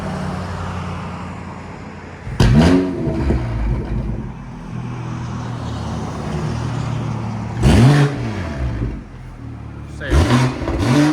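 A BMW M340i 3.0L on a cold start with its Valvetronic cat-back exhaust valves open: a loud, deep, steady high idle broken by three sharp revs that rise and fall, the last two close together near the end.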